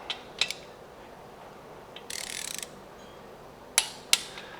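A ratchet wrench tightens 10mm studs on the 1600cc engine of a fire-damaged 1969 VW Beetle: a few sharp metallic clicks, then a short burst of rapid ratcheting, then more separate clicks, close and fairly quiet.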